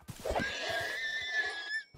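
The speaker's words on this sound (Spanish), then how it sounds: "Dios, da un yuyu el chillido del caballo" A horse in a video game lets out a shrill, drawn-out screeching whinny lasting nearly two seconds, loud and close, with a brief low snort at the start.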